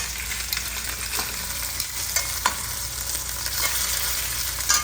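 Meat, sausage and ribs seared in a pan at medium-high heat, a steady close crackling sizzle with scattered pops and occasional stirring scrapes, no voices.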